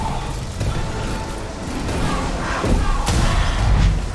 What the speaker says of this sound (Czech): To je slušnej výbuch.